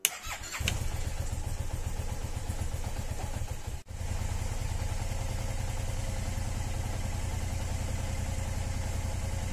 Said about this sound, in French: Alors, la moto, elle démarre.